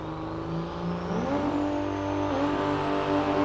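Pro Stock drag race cars rolling up at the NHRDA World Finals, a loud steady engine drone with rising revs partway through, close by and with no talk over it.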